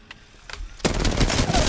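Rapid automatic gunfire in the Apex Legends video game breaks out suddenly after a quiet moment, a loud, dense burst of shots continuing to the end.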